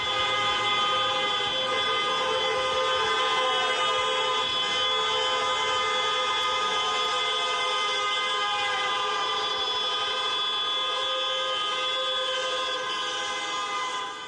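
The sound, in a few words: car horns honking in a street protest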